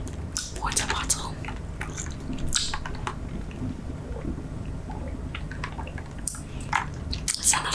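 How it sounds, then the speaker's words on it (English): Close, moist chewing of Big League Chew Swinging Sour Apple bubble gum, with wet smacks and clicks in an irregular rhythm and soft speech-like murmurs underneath. "Today I'm chewing on Big League Chew Swinging Sour Apple."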